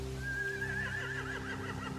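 A horse whinnies once in The Walking Dead video game, a wavering, high neigh lasting about a second and a half over a low steady hum, fairly faint.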